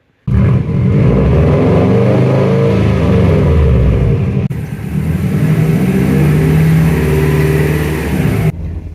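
Mazda Miata engine running close by, a steady mid-pitched hum that holds level for several seconds with a small shift midway, with no talking.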